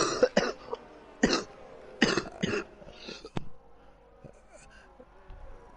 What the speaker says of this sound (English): And my co-commentator's now having a little session on his own by coughing.